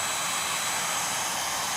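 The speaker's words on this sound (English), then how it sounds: "we'll hit that with the hair dryer" A hair dryer blowing steadily on fresh paint on a crokinole board, a constant close airy whoosh with no breaks.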